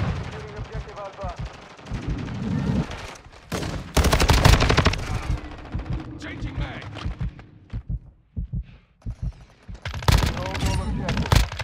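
Bursts of rapid automatic fire from the FSS Hurricane in a first-person shooter game crackle loudly in several volleys, broken by short gaps, with in-game chatter and a player's voice between them.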